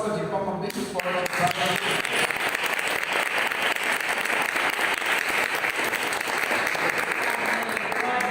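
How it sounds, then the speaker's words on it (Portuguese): Congregation in a church giving a strong round of applause, dense steady clapping that fills the room and continues without pause; a voice briefly sounds at the very start before the clapping swells. "Recebemos o homem de Deus com uma salva de palmas bem forte."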